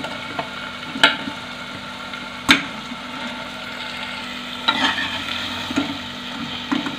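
Eggplant sizzling and being stirred into frying masala for a spiced brinjal and potato curry: steady hiss of oil with occasional sharp clacks of a spoon against the pan.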